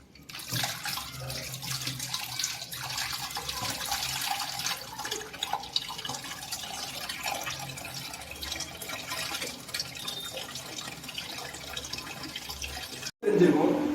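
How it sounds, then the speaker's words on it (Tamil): Water pours steadily into the tank of an air cooler, producing a continuous splashing and trickling rush that runs for over ten seconds before a brief louder clatter at the end. "நான் தண்ணி ஊற்றி காட்டுறேன் உங்களுக்கு."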